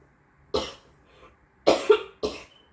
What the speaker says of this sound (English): you're over there coughing to death